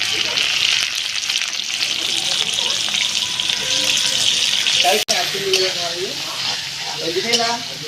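Chopped onions frying in oil in a small wok alongside whole garam masala, giving a steady, close hissing sizzle throughout with occasional stirring scrapes and a few soft background sounds.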